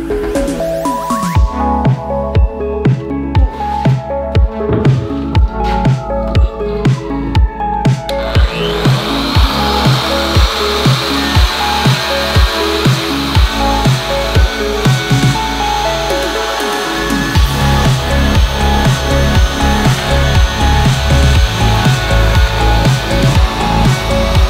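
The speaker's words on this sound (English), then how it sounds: "So I'll just take it the rest of the way from here with the palm sander." A palm sander works over the base of an end table built from scrap lumber, a loud continuous whirring hum with rhythmic knocking and scraping against the wood, close and steady.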